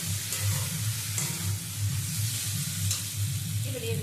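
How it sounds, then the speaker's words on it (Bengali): Fried potato and brinjal being stirred into sizzling masala for a flame-of-the-forest flower chorchori, a continuous close frying crackle with soft spoon scrapes throughout, no voices. "আলু বেগুন দিয়েও নেড়ে চেড়ে নেব।"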